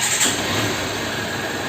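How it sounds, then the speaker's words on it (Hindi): A Honda CB Unicorn 160 BS6 motorcycle engine just started and running, a steady low idle hum with a faint mechanical whine, constant and moderately loud throughout with no speech. "बस इंजन चालू है।"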